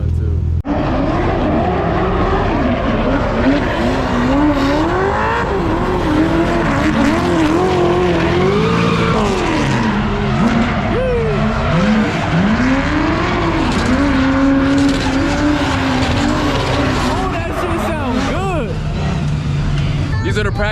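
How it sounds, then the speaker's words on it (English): Drift cars running practice laps on a race track, engines revving and wailing up and down with tires squealing, loud and continuous as people talk nearby. "We're watching them warm up, getting their cars dialed in. This makes me want to drift."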